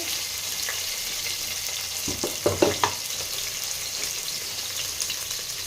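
Onions fry in a pan toward golden brown, giving a soft, continuous sizzle with a brief burst of louder crackling and stirring clatter midway, heard alone without talk.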